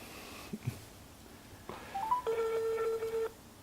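A telephone rings for an incoming call, faint and distant: a few short tones, then a sustained electronic ring lasting about a second in an otherwise quiet room.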